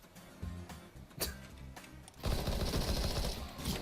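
Gunfire rattles in a CS:GO battle royale match, first as a few spaced sharp bursts and then as a loud, continuous barrage of shots.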